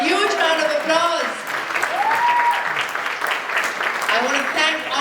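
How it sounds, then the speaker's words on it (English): Loud, sustained audience applause fills an evening event hall, with whoops and cheering voices rising over the clapping throughout. "Let's give them a huge round of applause"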